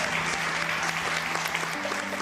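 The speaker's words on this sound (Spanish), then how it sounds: "Dale un fuerte aplauso a tu Dios y tu Salvador." A church congregation gives strong applause during a service, a steady wash of clapping with faint tonal voices or music underneath.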